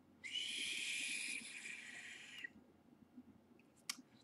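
An Innokin Cool Fire 4 vape with its airflow set too closed gives a loud, high whistle for about two seconds, then it stops and a few faint clicks follow.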